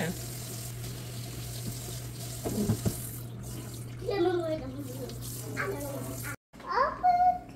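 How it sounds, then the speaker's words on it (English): A kitchen sink tap runs in a steady low hiss while the sink is cleaned out, with a few clatters and a woman and a toddler speaking briefly over it before a short cut. "I'm just gonna clean out the sink, right?"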